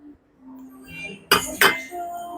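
Metal forks and spoons from a 30-piece cutlery set clink together in two sharp, close jangles, with quieter rattling around them, in a shop during a trousseau shopping trip.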